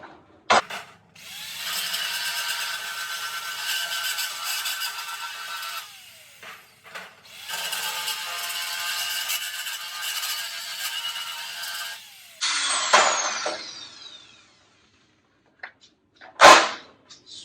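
A power drill drives bolts into an ammo can being made into a grill, whirring in two long sustained runs with a pause between, followed by sharp metallic clanks and a loud knock near the end.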